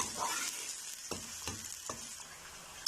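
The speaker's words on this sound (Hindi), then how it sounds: "प्याज डाल देंगे, कश्मीरी होने तक प्याज को फ्राई करेंगे।" Onions fry for turnip curry (shaljam ka salan) in a pan, giving a steady soft sizzle with a few faint stirring clicks throughout.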